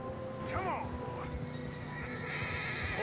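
A horse whinnies loudly in a snowy setting in the video game Red Dead Redemption 2, a rising and falling neigh over a constant wind-like background, followed by a fainter second call.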